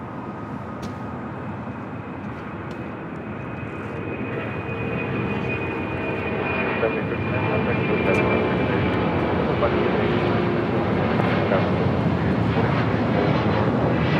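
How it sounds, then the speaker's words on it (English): An Aero Union aircraft rolls for takeoff on runway 25 right at Los Angeles International Airport, its jet engine roar rising steadily in loudness as it builds speed, with a thin whine running over the rumble. "Aero Union now rolling on 25 right"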